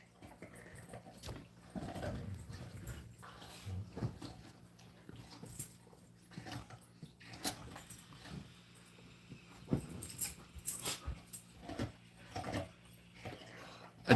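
A Doberman named Sansa whimpers and whines in scattered soft bursts, mixed with shuffling and bumping noises close by, against a low steady hum.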